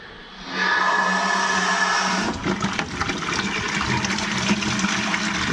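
Water from a steam boiler with a leaking main vent flushes and drains in a loud, steady rushing gush that starts after a brief quieter moment and keeps pouring, with no talk.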